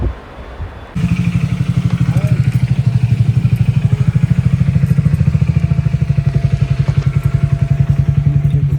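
A motorcycle engine fires up after a brief quiet moment and settles into a loud, close, rapidly thumping rhythm that stays steady throughout, on a ride from Murshidabad to Kolkata.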